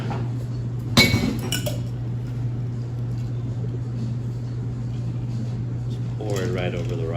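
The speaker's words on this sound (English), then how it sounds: "we'll go ahead and grab our hand cut and hand chiseled clear ice cube" A hand-cut, hand-chiseled clear ice cube drops into a cocktail glass with one sharp clink, followed by quieter clatter and a steady low hum, with a voice speaking briefly near the end.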